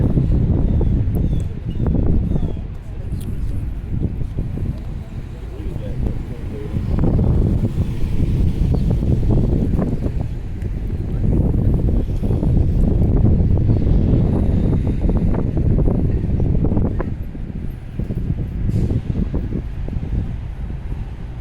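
Gusty wind buffeting the microphone in uneven rumbling bursts, with faint background activity throughout.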